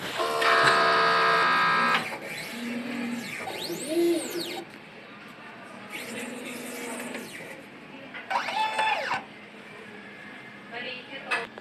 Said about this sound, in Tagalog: Nozzle check